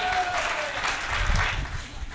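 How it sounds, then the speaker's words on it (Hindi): An audience claps at a Hindi comic poetry gathering, with a short burst of applause that rises and falls over about two seconds, with a faint voice present. "ताली बजानी पड़ेगी"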